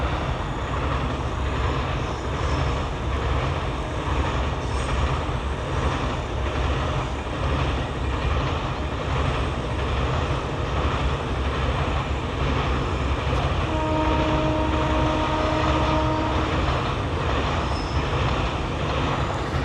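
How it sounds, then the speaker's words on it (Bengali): A train passing close by near a river in the Buxa Tiger Reserve forest, a loud, continuous roar and rumble holding steady throughout, with a faint whistle-like tone late on. "ভালো টাইমিংয়ে এসছি আমরা। ট্রেন পাস হচ্ছে।"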